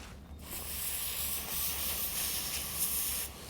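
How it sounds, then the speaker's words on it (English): Water runs steadily over hands being rinsed while a chicken is gutted, a constant close hiss with a little splashing, no speech. "I rinse my hands off."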